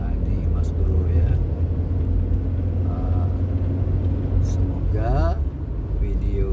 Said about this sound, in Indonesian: kendaraan sudah mulai kita berpapasan ya, baik yang dari depan maupun yang menyalip dari belakang